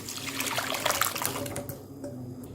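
Boiled dal pours into a spiced grated coconut mixture, a close wet splashing and glugging stream that thins out near the end.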